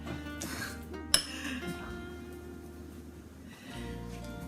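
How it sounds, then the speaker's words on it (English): Mashed squash oats are spooned from one bowl into a smaller bowl, giving a sharp clink of spoon against dish followed by quieter scraping and soft knocks of utensils on tableware. "I'm going to transfer it to a smaller bowl now that I'm done mashing"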